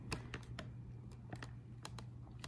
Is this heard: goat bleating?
no